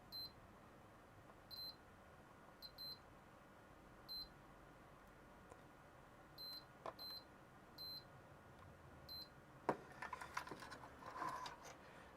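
Capacitors on a 386SX-era motherboard charge up, giving a series of faint, short high-pitched beeps in irregular pairs and singles, followed by soft clicks and handling noise in a quiet room.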